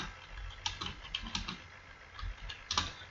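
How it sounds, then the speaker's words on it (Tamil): Close-up typing on a computer keyboard in MS Word: irregular bursts of crisp keystroke clicks with brief pauses between them, alone and without speech. "நான் இந்த கண்டென்ட்டை வந்து இப்போ டைப் பண்ணிட்டேன்"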